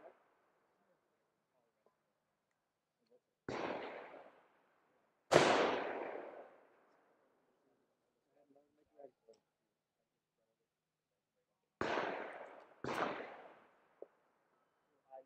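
Rifle gunshots at an outdoor precision rifle match: five sharp, loud cracks in two uneven groups, each followed by a short decaying tail, separated by long quiet gaps with faint clicks and distant murmur.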